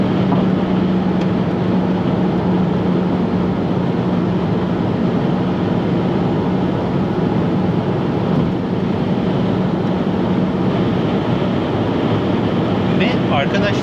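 An Opel Insignia 1.6 Turbo 180 HP Cosmo with Flexride chassis cruises on a highway at speed, its cabin filled with a loud, constant drone of engine, tyre and wind noise that barely changes throughout.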